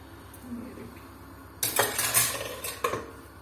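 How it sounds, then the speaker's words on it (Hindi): Metal clatter as the weight is lifted off a pressure cooker and the lid is worked open, a quiet lead-in followed by a burst of close, bright clanks and scrapes with a final sharp knock, no talking. "अब मैं चूल्हे को बंद करती हूँ और इसका वेट उतारती हूँ। हम इसको खोलते हैं।"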